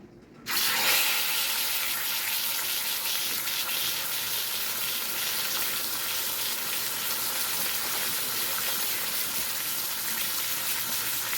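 Tap water runs steadily while hands are rinsed in a home kitchen during supper preparation, a loud continuous broadband splashing hiss starting abruptly and lasting throughout without talk.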